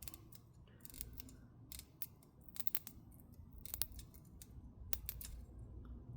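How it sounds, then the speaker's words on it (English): A plastic razor blade cutting the battery adhesive inside an HP EliteBook x360 1040 G8 laptop, giving a run of close, faint, sharp clicks and snips in irregular bursts over low background noise. "So we're gonna get underneath the adhesive here and just cut a little bit"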